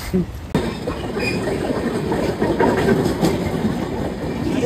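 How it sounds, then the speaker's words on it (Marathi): A train arrives at a platform close by, rumbling steadily, with a dense continuous clatter of wheels on rails and a faint high metallic whine over it. "प्लॅटफॉर्मवरती पण ट्रेन आली"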